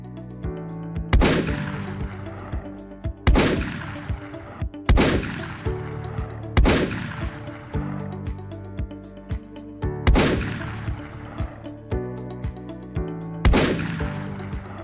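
Toy gunfire sound effects from a Playmobil rescue play set ring out in five sharp, loud bursts, each trailing into a ringing electronic decay, spaced a few seconds apart with no talking.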